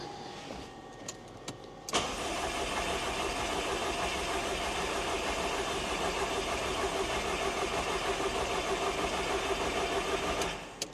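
A Volkswagen engine swapped into a Ford Escort cranks briefly, then catches and runs steadily at a loud, even idle for about nine seconds before cutting off.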